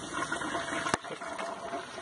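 Water gushes steadily from an opened valve on a slow sand filter, a continuous close rushing flow with a brief knock as the valve is turned.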